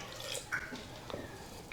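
A third of a cup of water poured into mashed overripe bananas for banana bread, a brief soft splash and trickle into a bowl, quiet and close with no talk.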